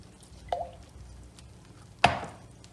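Soft, sticky spinach bread dough kneaded by hand, two moist squelching slaps about a second and a half apart, close and clear over a quiet room.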